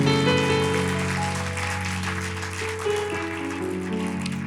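A church congregation claps together during a Spanish-language sermon, a dense patter of hands running the whole short stretch over a sustained musical drone.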